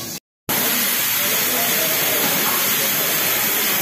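A loud, steady hiss of steam jets out continuously after a brief silence, a pressure cooker venting close by in a mountain village restaurant, a small lemon on its lid lifting from the pressure.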